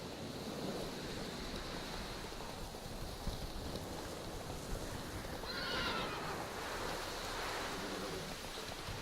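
A horse in The Witcher 3 lets out a brief whinny midway through, set against a steady rushing wash like surf or rain, with faint hoof clatter and no speech.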